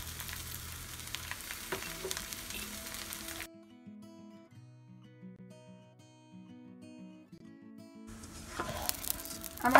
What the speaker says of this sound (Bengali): এবার এটাকে একটু ভেজে নিব চালটাকে।